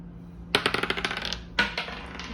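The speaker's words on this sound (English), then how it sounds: "we're gonna roll the dice in front of him" Dice are rolled on a hard surface, giving a rapid clattering series of light clicks that bounce and settle, followed by a second shorter rattle, close and clear with no talk.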